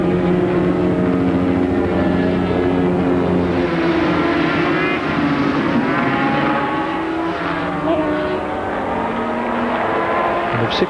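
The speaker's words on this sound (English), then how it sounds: "But a wheel patter from Daryl Beattie's bike." 250cc racing motorcycles scream along the Oran Park circuit, their high-pitched two-stroke engines continuous and loud, pitch rising and falling as the bikes pass.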